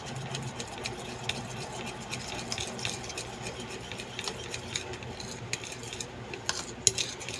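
Hot cake batter is stirred with a utensil in a bowl, giving a steady run of soft scraping and light clinking that carries on throughout at close range, with no talk.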